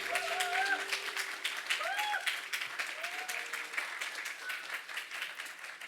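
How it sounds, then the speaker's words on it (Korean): A church congregation at a Korean Presbyterian church service in Hawaii applauds in a steady, sustained wash of clapping. The applause holds fairly even throughout, with voices and a few cheers mixed in. "우리 다시 한번 우리 박수로 환영해 주시기 바랍니다"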